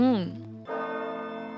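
A church bell tolls in a chapel scene of a narrated story: a ringing metallic strike whose tone bends and fades, then a second clear strike with a long, steady, resonant hum that lingers.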